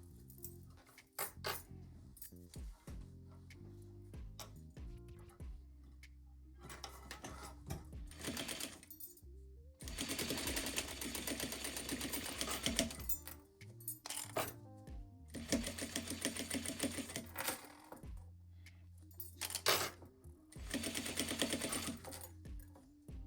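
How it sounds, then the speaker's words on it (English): A sewing machine stitches along the side of a zippered pouch in several loud bursts of rapid mechanical chatter, separated by pauses with small clinks and handling noises. "now we're going to stitch this side."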